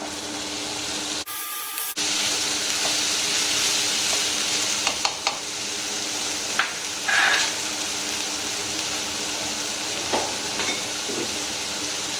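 Green chillies and chopped tomato sauté in a pan while cooking a Madurai-style chicken dosa, with a steady close sizzle and a few brief clatters of utensils, and no talking.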